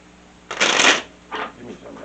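Tarot cards are riffled through a shuffle in two quick, close bursts, the first longer and louder than the second.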